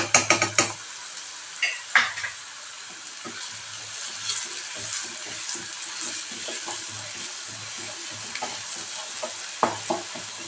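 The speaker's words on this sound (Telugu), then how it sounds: "గోల్డెన్ బ్రౌన్ వచ్చేదాకా వేయించుకుందాం" Ginger garlic paste fries in a pan over medium flame for a mushroom masala curry, a steady close sizzle broken by scraping stirs and a few clinks of the spoon against the pan, with no voices.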